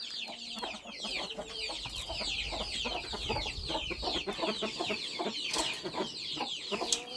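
Broody hens that have been fighting while leading their chicks cluck in a farmyard, with many rapid, overlapping clucks and chirps from several birds close by, continuing without a break.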